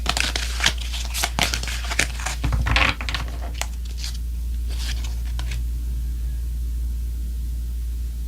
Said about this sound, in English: So I'm going to shuffle some more cards